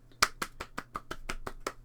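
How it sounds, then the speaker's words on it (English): A series of about nine sharp, evenly spaced hand claps, quiet and close, sounding alone with no talk. "That's my clapping."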